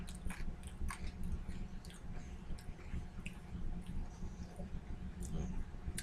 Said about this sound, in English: With the crunch of pea.